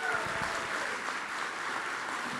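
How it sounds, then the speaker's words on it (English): A debate audience in San Antonio gives a short, steady round of applause, moderate in loudness, with a few voices murmuring under the clapping. "can we give Andrea and Leah a round of applause for what a great job?"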